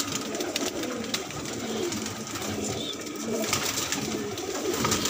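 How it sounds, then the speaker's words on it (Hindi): Domestic pigeons cooing in a loft of about 400 feathered high-flyer birds with young and breeding females, a steady dense chorus of overlapping coos and rustling throughout, fairly close. "400 कबूतर करीब हैं, परदार हाई फ्लायर।"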